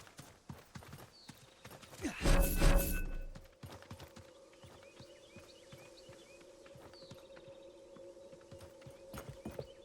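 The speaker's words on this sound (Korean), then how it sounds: "있어 있어 걷는 소리 들려" Footsteps of a nearby enemy player in the video game Realm Royale, a steady run of soft, evenly spaced steps under a continuous game hum, with a louder burst of noise early on and no talking.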